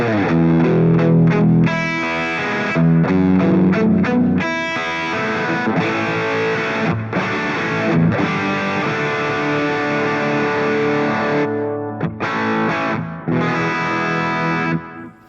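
Electric guitar run through a Two Notes GENOME drive and delay setup, loud and close, with gritty overdriven chords and picked notes trailing into echoing repeats; no talking.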